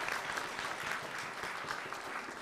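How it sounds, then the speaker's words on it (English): Steady, dense applause from a crowd at an awards function, clapping continuously throughout without pause. "I think we should hear a bigger round of applause."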